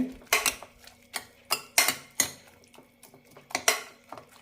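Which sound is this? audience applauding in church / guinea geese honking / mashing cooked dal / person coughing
mashing cooked dal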